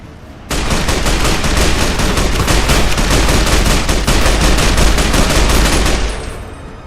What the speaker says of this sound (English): Survivalist rifle.